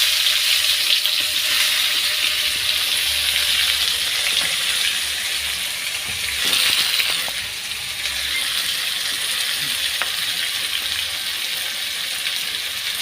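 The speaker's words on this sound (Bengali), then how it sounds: "জিরে ফোড়ন দেওয়ার পরে জিরেটা আমার ওখানে ভাজা ভাজা হওয়ার পরে আমি এখানে দিয়ে দেবো পেঁয়াজ কুচি।" Chopped onion fries in hot oil with cumin seeds and bay leaf, giving a loud, steady sizzle throughout. A brief stir or clatter comes partway through, and no one speaks.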